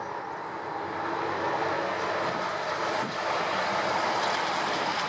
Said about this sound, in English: There's also a railway line behind you, so just bear in mind that trains do go past quite often.